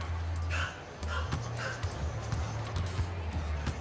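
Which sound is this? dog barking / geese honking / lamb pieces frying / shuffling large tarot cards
dog barking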